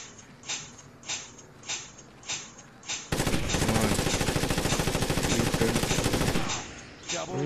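Gunfire in a video game starts as evenly spaced single shots and then becomes a loud, sustained machine-gun burst lasting about three seconds. Spaced shots follow, with no clear speech.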